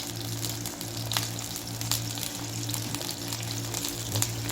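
Cumin seeds sizzle in hot oil for a tomato egg dish, a steady close crackling hiss with scattered sharp pops over a low hum, and no voices.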